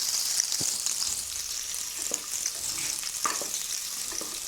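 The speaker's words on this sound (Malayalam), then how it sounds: "ഇനി നമ്മൾ ഈ സവാളയൊക്കെ നന്നായിട്ടൊന്ന് വഴന്ന് വരുന്നവരെ ഒന്ന് വെയിറ്റ് ചെയ്യാം" Onions sautéing in a pressure cooker for kuska biryani, a steady close sizzle with a few light scrapes from stirring, no talking.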